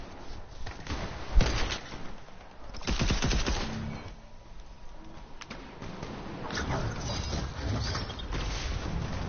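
Rapid gunfire and shots ring out during a Fortnite match, dense bursts of shooting and impacts layered over game sounds, moderately loud and continuous throughout with brief louder cracks.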